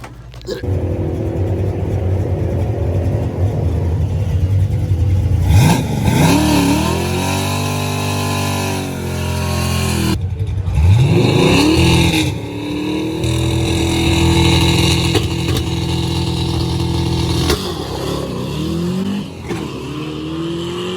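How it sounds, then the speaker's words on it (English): A car engine revs loudly and continuously as the car drives up onto a trailer, its pitch sweeping up and down through several throttle blips with a harsh, close-up roar throughout. "Car drove onto the damn trailer"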